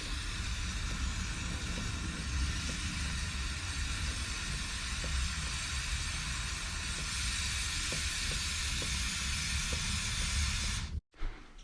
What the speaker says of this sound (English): I start spraying it on the chain while rotating the tire